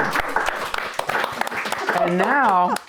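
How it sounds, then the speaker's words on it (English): Audience applause for the hosts at a poetry discussion gathering, a short burst of clapping from a small crowd that is partly under a speaking voice and ends with a cheer. "to signal their presence by putting their hands together to thank our hosts, Lucy and her family"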